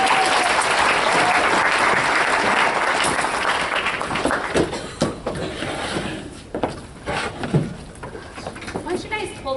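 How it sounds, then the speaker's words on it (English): A room of people claps for presenters at a business meeting, loud applause that thins and breaks up after about five seconds into scattered claps, shuffling and low voices. "Let's give them a round of applause."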